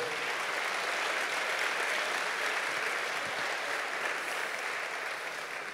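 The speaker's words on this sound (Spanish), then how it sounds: "Dele palmas al Señor por eso" Church congregation clapping together in a sustained, dense round of applause, steady and loud throughout, tapering slightly at the end.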